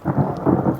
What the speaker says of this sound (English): There's some thunder sounds coming.